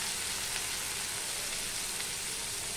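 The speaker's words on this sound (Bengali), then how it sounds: "দিয়ে আলু পেঁয়াজের সাথে আমি ভালো করে ভেজে নেব, ঢাকা দিয়ে ভেজে নেব" Potatoes and onions fry in a pan with a steady, even sizzle and crackle, continuous and faint-to-moderate with no voices.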